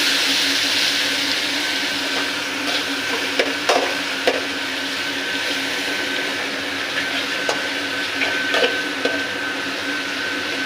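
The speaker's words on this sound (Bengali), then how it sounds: "এবার পেঁয়াজটা ভাজা হয়ে যাক," Onions sizzle steadily in a pan with a little sugar for a Bengali chicken kosha. A few sharp stirring scrapes and knocks of a spatula stand out above the continuous frying hiss, and no one speaks.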